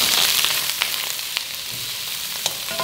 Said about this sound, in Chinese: 锅热倒油，鱼头给它放下去煎一下